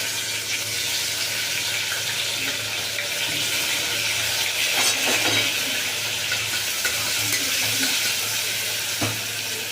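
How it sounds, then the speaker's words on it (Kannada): Chopped onions dropped into hot oil in a pressure cooker give a loud, continuous close-up sizzle, a dense steady hiss with a few small pops and no pauses. "ಫ್ರೈಗೋಸ್ಕರ ಈರುಳ್ಳಿ ಹಾಕ್ಕೊಳ್ತಾ ಇದ್ದೀನಿ"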